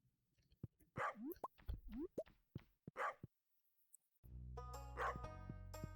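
Dogs barking from a bark trap in Stardew Valley Archipelago: a series of short sharp yips and barks in quick succession, followed by a sustained tonal game sound with more barks over it.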